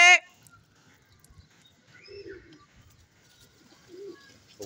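Pigeons at a pigeon-flying contest give two soft, low coos a couple of seconds apart over faint background rustle, after a brief voice at the very start.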